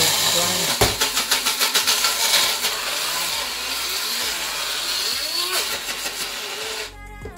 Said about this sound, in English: Run it through the grinder.